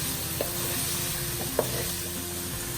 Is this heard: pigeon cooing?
no